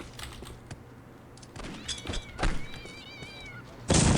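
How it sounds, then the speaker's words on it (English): Cats meow in Postal 2, with several short wavering cries mid-clip among thumps and clicks, ending in a sudden loud burst of noise. "The cats are going crazy, that's for sure."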